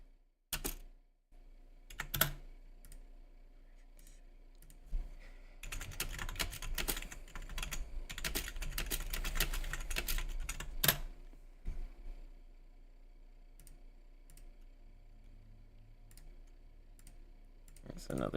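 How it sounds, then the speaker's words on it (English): Computer keyboard typing comes as clusters of quick clicks and key taps with pauses in between, close up and moderately loud, and one dense burst in the middle. "That's another example of my beautiful typing."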